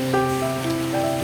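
Rain falling through a whole rainy day, a steady hiss close by, with faint tonal hums underneath and no speech.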